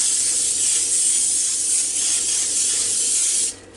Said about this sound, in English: we're going to really spray down the counter